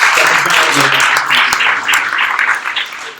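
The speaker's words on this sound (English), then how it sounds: "one more round of applause, guys" Crowd applause, a steady patter of many hands clapping at once, fairly close and sustained for a few seconds before tapering slightly.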